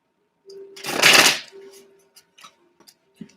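Romance angels oracle cards being shuffled, one short rustling burst followed by a few faint taps and clicks, close and quiet, with soft talk around it.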